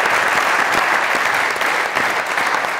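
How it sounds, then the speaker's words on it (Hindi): A studio audience at a comedy talk show bursts into loud, dense applause, a sustained roar of clapping close and continuous throughout. "तालियां।"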